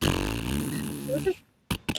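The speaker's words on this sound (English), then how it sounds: "So it's just going to be fart sounds for 30 seconds." A fart sound, a drawn-out low buzzing rasp with rising squeaky blips at the end, followed by two short sharp bursts after a brief silence.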